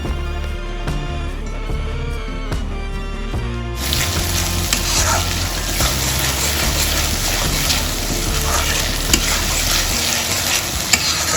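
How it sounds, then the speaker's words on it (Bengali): Spices frying in a pan for a doi katla fish curry, with ginger and green chilli paste added partway; a quieter sizzle with rhythmic stirring taps gives way to a loud, dense, crackling sizzle that continues steadily. "মশলাটা দেখো ভাজা ভাজা হয়ে এসছে, এর মধ্যে চলে গেল এবারে আদা কাঁচা লঙ্কা পেস্ট।"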